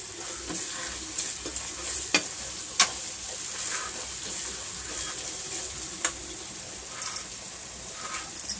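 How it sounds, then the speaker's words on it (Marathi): Tomato paste fries in a pan for veg biryani, producing a continuous close sizzle broken by occasional sharp clicks and taps of a spoon stirring. "त्यामध्ये मी आता ही पेस्ट घालते आहे टोमॅटोची."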